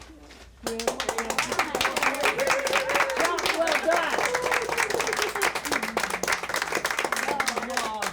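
A music event audience bursts into loud, sustained applause after a brief quiet start, with dense clapping filling the rest of the clip while a voice speaks briefly over it.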